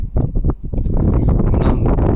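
Strong gusting wind on a hill path up Gop hill buffets the microphone with loud, continuous rumbling and rustle, no voices present.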